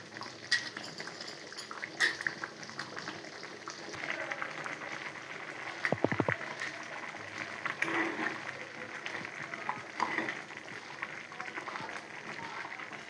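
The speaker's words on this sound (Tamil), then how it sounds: "புளித்தண்ணி மசாலாலாம் நல்லா கொதிக்க வச்சுட்டு நல்லா மசாலா வாடை போகணும்" Tamarind water and masala for a taro root curry simmer in a pot at a low, steady bubble, with faint clinks of utensils now and then.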